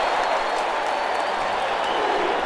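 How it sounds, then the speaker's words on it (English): A stadium crowd at an Orlando at Oklahoma City football game rises in a standing ovation for the OKC defense. Steady, dense applause and cheering fill the whole stretch at an even, loud level. "really a standing ovation for the OKC defense"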